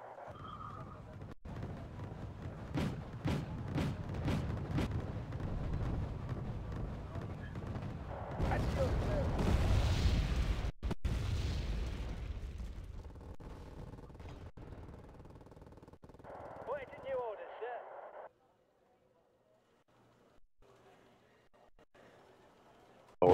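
Artillery fire and explosions sound in the video game Wargame AirLand Battle as a rapid series of heavy booms and rumbling blasts, then fade into quieter game sounds with brief bits of talk.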